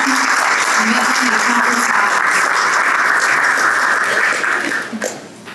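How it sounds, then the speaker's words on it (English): A large audience at a business awards gala applauds loudly and continuously, a thick roar of clapping that holds steady before tapering off near the end, with a faint voice briefly under it. "Please give them a well-deserved round of applause for their dedication"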